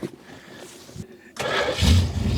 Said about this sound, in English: I'm going to turn the fast idle on and then crank it again